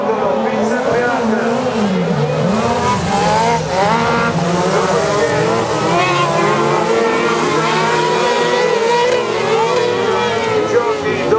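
Autocross CrossCar racers at the FIA European Autocross Championship in Maggiora scream past one after another, loud revving engines and squealing tires over gravel, under continuous excited commentary.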